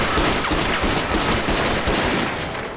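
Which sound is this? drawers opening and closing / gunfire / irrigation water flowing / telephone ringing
gunfire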